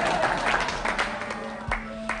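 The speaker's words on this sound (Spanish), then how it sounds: "Un aplauso para Fabiola, que está aquí con nosotros" An audience claps for a woman named Fabiola brought up during a comedy and magic show, a soft, steady spatter of clapping with a few sharper claps and faint voices underneath.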